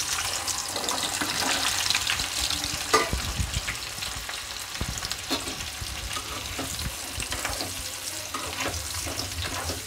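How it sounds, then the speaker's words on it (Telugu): Small Indian gooseberries (amla) drop into hot oil and fry with a steady, dense sizzle and crackle, close and loud throughout, with occasional stirring clatter and no voices. "నూనె కాగిపోయింది. ఇప్పుడు నేను ఈ ఉసిరికాయలు వేసుకుంటున్నాను."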